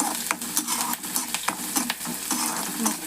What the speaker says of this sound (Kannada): ಉಳ್ಳಾಗಡ್ಡಿ ಎಲ್ಲ ಕರಿಬೇಕು ರೀ ಎಣ್ಣೆ ಒಳಗೆ ಕಾಯಾಗಲಿ ಆಗಲಿ ಎಣ್ಣೆ ಒಳಗೆ ಚಲೋ ಕರಿಬೇಕು